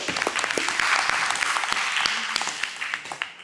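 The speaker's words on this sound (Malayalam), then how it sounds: "എല്ലാവർക്കും നല്ലൊരു ക്ലാപ്പ് അവർക്ക് കൊടുക്കാം" A crowd claps steadily and fairly loudly at a medical college reunion in Alappuzha, with dense overlapping applause that fades toward the end and faint voices underneath.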